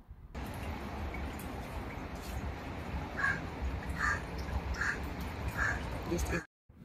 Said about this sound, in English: There you can hear the bird sound.